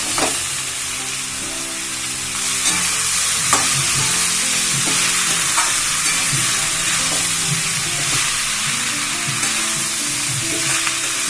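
Bottle gourd sizzling and frying in hot oil tempered with bay leaf, dried red chili and cumin, a steady close crackle with occasional stirring scrapes throughout.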